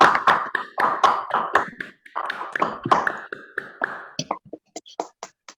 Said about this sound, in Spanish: aplaudimos la mesa